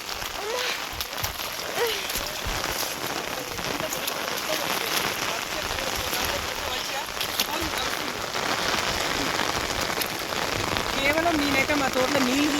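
Heavy rain pours steadily onto a flooded farm garden, a dense continuous hiss of drops spattering on surfaces, with faint voices now and then beneath it.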